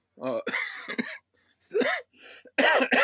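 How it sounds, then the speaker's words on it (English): Several throat-clearing coughs from an adult man recovering from a lingering cough, close and loud, in short bursts with brief pauses between them. "still got the lingering cough"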